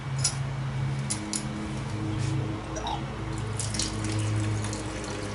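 Hot wort runs from a partly opened ball valve on a home brewing mash tun during an all-grain brew, a steady splashing trickle that continues throughout, with a few faint clinks near the start.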